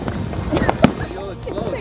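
Fireworks on the Fourth of July burst and crackle in a few sharp pops, one louder bang standing out, while people talk nearby.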